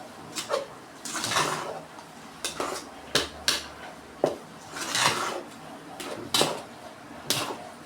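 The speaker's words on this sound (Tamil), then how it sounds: "காய்ச்சின பாலை சேர்த்துட்டு இது மாதிரி கரண்டி வச்சு நல்லா துழவி விட்டுக்கோங்க" A metal ladle stirs boiled milk into curd rice in a pot, giving a run of scraping, clinking knocks and rubbing swishes at an irregular pace, close and moderately loud, with no talk.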